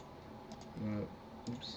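A few quick keystrokes on a computer keyboard while entering text in Photoshop, soft and brief, with a voice talking faintly around them.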